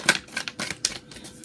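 Tarot cards being shuffled by hand in quick, uneven bursts of papery riffling and soft slaps, close and fairly quiet, with no talking.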